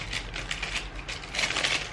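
Packaging around a makeup palette being unwrapped up close, giving a steady run of crisp crinkling and rustling that swells louder toward the end.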